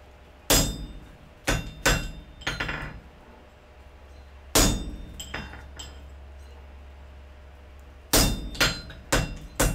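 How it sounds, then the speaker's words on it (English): Sharp metallic strikes of a hammer on a punch over an anvil while forging wrought iron come in bursts of three or four ringing blows, separated by short pauses. "I'm trying to make sure I direct this punch straight down to the anvil."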